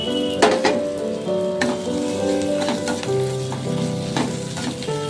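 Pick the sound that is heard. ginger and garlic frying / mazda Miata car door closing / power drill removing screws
ginger and garlic frying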